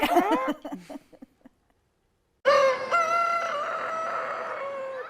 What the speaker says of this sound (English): a symphony of squawking inside the Poultry Barn